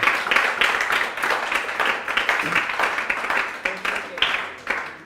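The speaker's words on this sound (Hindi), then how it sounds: "एक बार ताली आप सभी के लिए।" Applause from a classroom audience after a lecture, a sparse, uneven run of hand claps that comes in bursts and thins out, with occasional voices mixed in.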